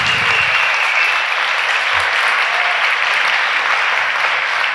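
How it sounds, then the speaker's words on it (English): Sustained, dense applause fills a large hall at a live creativity and climate event in Amsterdam, a thick wash of many hands clapping evenly throughout without any voices breaking through. "take another round of applause"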